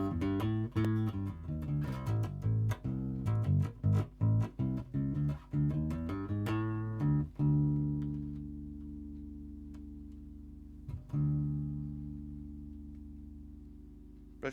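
A Yamaha BB604 bass guitar played with its mid-cut switch engaged, a run of plucked, punchy notes with short gaps, then a long sustained note left to ring and fade, with a final light pluck at the end.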